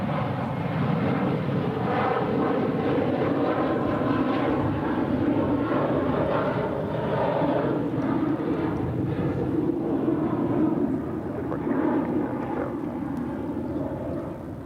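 An airliner departing at DFW airport, a sustained loud engine roar with a rumbling low end that stays steady throughout and fades a little at the end, no talk.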